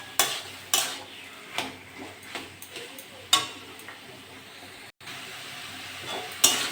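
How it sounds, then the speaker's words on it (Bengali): Taro leaves (kochu shak) stirred and fried in a pan, sharp intermittent scrapes and clinks of a spatula against the pan at irregular intervals over a low sizzle, close and moderately loud, without talk. "এটা নেড়ে চেড়ে ভালো করে এরকম করে ভেজে নিতে হবে।"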